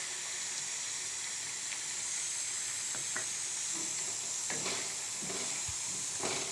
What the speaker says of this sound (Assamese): লৰাই 1 মিনিটমান এনেকৈ ভাজিব